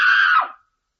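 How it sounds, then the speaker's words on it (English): A person in a radio drama lets out one loud, sustained scream that holds steady for about half a second, then fades and breaks off into silence. "Your scream woke me."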